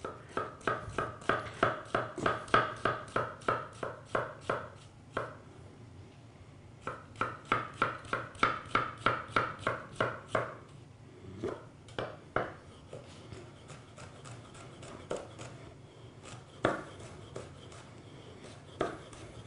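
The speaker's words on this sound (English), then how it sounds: "when you're chopping shallots or onions at home" Rapid, rhythmic knife chopping of shallots on a cutting board, crisp and close, comes in quick bursts separated by short pauses, with no talking.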